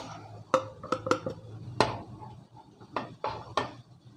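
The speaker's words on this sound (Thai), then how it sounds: "คลุกเข้าส่วนผสมต่างๆให้มันเข้ากันนะครับ" Bamboo shoots, pork and pounded paste are tossed together in a bowl, a series of sharp utensil clinks and scrapes against the dish at an irregular rhythm, close and fairly loud with no talk.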